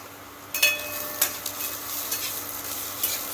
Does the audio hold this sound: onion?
yes